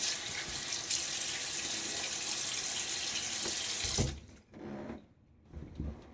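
A bathroom tap runs steadily and loudly into a sink during a wet shave, a dense broad rush that cuts off after about four seconds and leaves a few softer splashes and drips.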